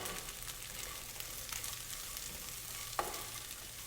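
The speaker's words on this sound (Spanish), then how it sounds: "Aquí nada más vamos a mezclar durante unos 2 minutos a que la nuez se dore un poquito" Large walnut pieces and celery stirred and toasted in a pan: a quiet, continuous frying hiss with occasional soft scraping strokes and one sharp utensil tap near the end, with no voices.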